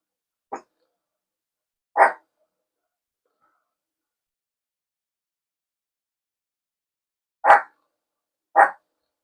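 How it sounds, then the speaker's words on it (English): Four short, sharp dog barks spaced apart, one then another, a long pause, then two more, fairly close against silence. "So you probably can hear the dogs barking."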